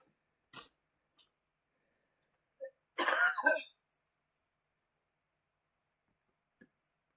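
A few brief throat-clearing sounds near the microphone, followed by a short cough-like burst and a tiny click, set against long stretches of silence.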